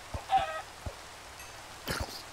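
Chickens in the video game Minecraft give a few short, faint clucks scattered over a couple of seconds against a quiet background, with no talking.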